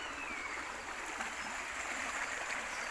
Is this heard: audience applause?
no